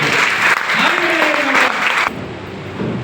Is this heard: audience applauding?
yes